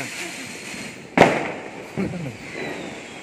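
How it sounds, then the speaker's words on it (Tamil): Diwali firecrackers burst outdoors near a home, with one sharp loud crack followed by a smaller pop, heard under steady background noise. "அதே பட்டாசு வெடிக்கு பாரு"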